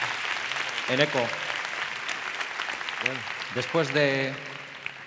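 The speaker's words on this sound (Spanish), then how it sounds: "yo creo que se merecen un aplauso por atreverse a subir" Sustained audience applause at a talk on gastronomy and neuroscience, a dense wash of clapping throughout, with someone speaking over it.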